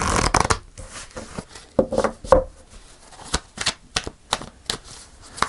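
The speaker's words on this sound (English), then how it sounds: "One more shuffle. You know how I like to shuffle well." A deck of tarot cards is shuffled by hand nearby, giving bursts of crisp riffling and slapping clicks in an uneven rhythm with short pauses between.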